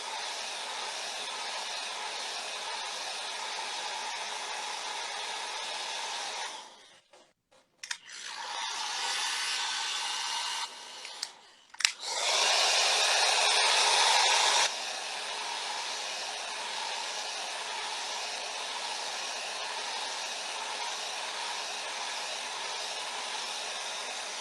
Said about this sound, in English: Sorry about the hair dryer there.